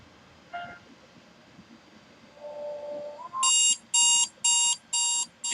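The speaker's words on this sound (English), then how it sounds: "Yet another grim day started with the alarm clock blaring maddeningly." An alarm clock blares in five loud, evenly spaced electronic beeping bursts, preceded by a couple of soft tones, with no talk.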